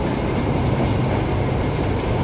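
Virgin Pendolino train, a class 390 electric unit, at Carlisle station on the West Coast Main Line, giving a steady loud rumble of rolling wheels and traction noise throughout, close by and without talk.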